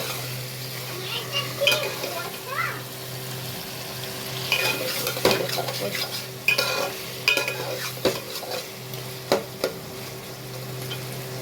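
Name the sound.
meat being stirred and fried in a pan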